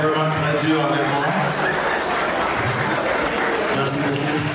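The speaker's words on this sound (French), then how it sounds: "S'il vous plaît, un round d'applaudissements pour ceux-ci encore qui travaillent vraiment très dur avec moi." Audience applause at a community association gala honoring the event organizers, a dense sustained wash of clapping with crowd voices and talk mixed in throughout.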